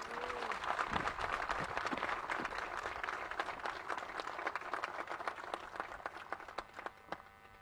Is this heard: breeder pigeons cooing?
no